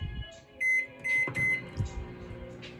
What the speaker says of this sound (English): We're going to microwave for 30 seconds.